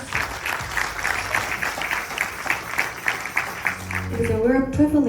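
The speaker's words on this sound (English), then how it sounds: "Please give Panaji another round of applause." Audience applause rings out at a Sri Ganesh Chaturthi Utsav night celebration. Steady clapping from a crowd lasts about four seconds, then a voice begins speaking as it fades.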